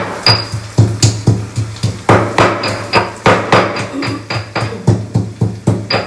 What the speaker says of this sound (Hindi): मैं इसमें अदरक और लहसुन को पेस्ट बना रही हूँ